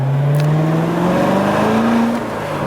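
A stock Chevrolet Corvette Z06 engine revs loudly up close, its tone rising steadily over about two seconds before easing off.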